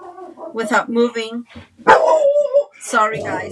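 A pet dog barks indoors, a few short close barks breaking in among a woman's speech during a calm stamping craft session.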